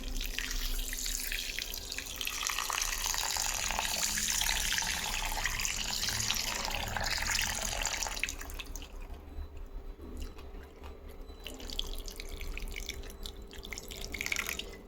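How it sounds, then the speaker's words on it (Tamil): Water runs from a tap as soaked lentils and rice are rinsed, a steady loud splashing and pouring that eases partway through into softer trickling and drips. "ரெண்டையும் நல்லா அலசிட்டு ஒரு 6 to 8 ஹவர்ஸ் தண்ணியில் ஊற வைக்கணும்."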